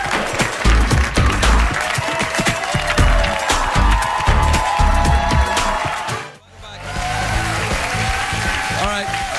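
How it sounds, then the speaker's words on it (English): Studio audience applause on a comedy talk show, a dense wash of clapping that dips briefly to near silence and then resumes, with some talk mixed in. "Thanks, everybody, for your completely genuine, spontaneous applause"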